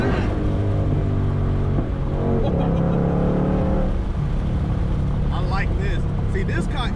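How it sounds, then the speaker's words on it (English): A 2021 Ford Mustang GT500 revs and pulls while driving, its exhaust a loud, rising and falling engine drone heard from inside the cabin, with a voice talking over it near the end. "I hope the camera is picking up the exhaust note"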